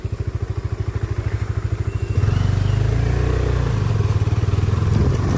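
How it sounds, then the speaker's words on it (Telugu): A motorcycle on a rainy mountain road in Malshej Ghat, Maharashtra idles with fast, even thumping pulses, then revs up into a louder, continuous engine drone as it rides off, close and clear with no talk. "చలో మళ్ళీ స్టార్ట్ అయిపోదాం బండి మీద ఎక్కి"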